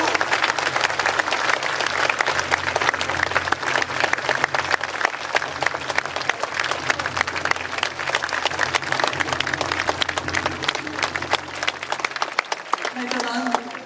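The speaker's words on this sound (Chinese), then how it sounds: "是不是大家给他一个掌声" Sustained, dense applause from an audience at an outdoor public speech rally in Taiwan in 2013 fills the whole stretch at close range, a steady roar of clapping that fades only at the very end.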